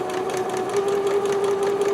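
A sewing machine rejoins a seam on a vintage dress, giving a steady, continuous mechanical hum with a faint rhythmic stitching pulse throughout.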